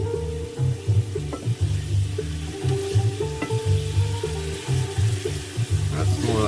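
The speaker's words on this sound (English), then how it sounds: "That's more like stir frying." Steady sizzling and frying of Samyang Buldak curry instant ramen noodles being stir fried in a pan, with rhythmic scraping and tossing, close and continuous.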